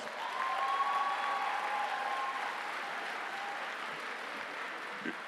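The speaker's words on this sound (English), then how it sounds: "Let's give this class another round of applause" An audience applauds the graduating Class of 2022 at their graduation ceremony, steady moderate clapping from a crowd, with a faint tonal sound early on and a gradual slight fade toward the end.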